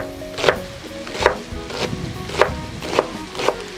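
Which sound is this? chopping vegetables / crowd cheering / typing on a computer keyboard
chopping vegetables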